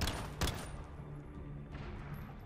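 Uzi fire in Call of Duty: Modern Warfare: a short burst of gunfire near the start, followed by a faint, muffled game background with no talk.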